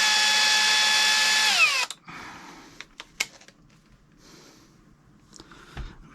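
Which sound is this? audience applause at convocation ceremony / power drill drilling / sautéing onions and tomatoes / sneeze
power drill drilling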